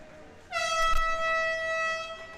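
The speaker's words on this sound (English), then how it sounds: "That's the air horn." A loud air horn at a swim meet suddenly blares and holds a steady, brassy tone for about two seconds before cutting off.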